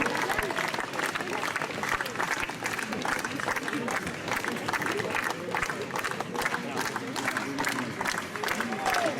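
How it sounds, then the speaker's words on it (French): A crowd at a Basque strength competition, the cart-lifting event, applauds in dense, steady clapping that sustains throughout, with scattered cheers and voices mixed into the din. "des petits applaudissements nourris comme ça,"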